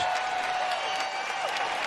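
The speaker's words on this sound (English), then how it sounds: "the sarcastic cheer" A baseball stadium crowd lets out a brief sarcastic cheer and scattered applause during a Diamondbacks–Giants game, a dense, fairly loud roar lasting under two seconds.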